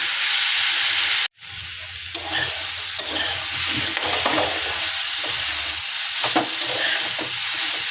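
Vegetables frying in a pan with ginger paste and spices, a steady close sizzle with occasional stirring scrapes, interrupted once by a brief cut to silence.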